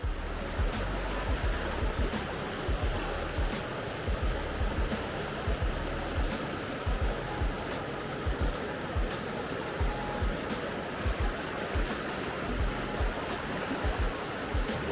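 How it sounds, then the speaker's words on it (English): Steady rushing water from a waterfall on a forest hike near a ghost town, a constant broadband wash with low rumbling surges, moderately close and continuous without pauses. "Waterfall over there."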